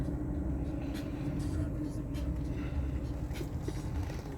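A car creeps slowly along an icy, snow-covered road in March with blowing snow, a steady low engine and tyre rumble running continuously throughout with no talk.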